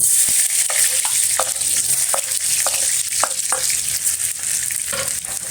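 Garlic crackles in a hot pan, a bright, loud sizzle up close, broken by a series of sharp clinks and scrapes as a utensil stirs it around.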